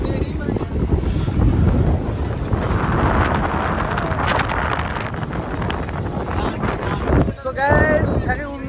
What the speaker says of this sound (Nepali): ल यो चाहिँ समुद्र हो